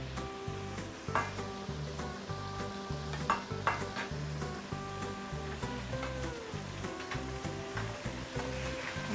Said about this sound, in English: We want to deep fry until it is almost fully cooked